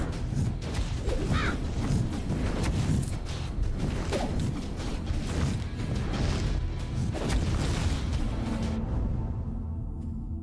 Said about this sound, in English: Meteor shower.